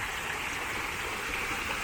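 A garden water feature with carved faces, set among trees in Chiang Rai, Thailand, gives off a steady, even rush of running water that holds without a break through the short stretch.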